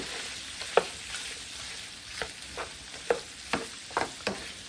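Onion slices fry in butter with shrimp for chipotle shrimp, a steady close sizzle broken by several soft stirring scrapes, with no talking.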